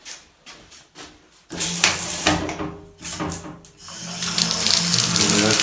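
Bathtub faucet in a renovated Moscow apartment bathroom, turned on for hot and then cold water: short splashing bursts at first, then a louder, steady rush of water running nearby.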